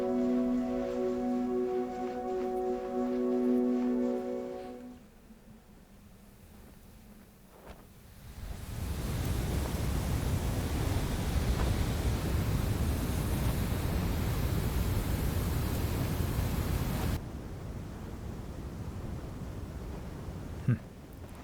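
Sand waterfalls in the video game Journey pour with a broad hissing rush that swells in after a quieter opening with soft tonal music, then holds steady before dropping away near the end.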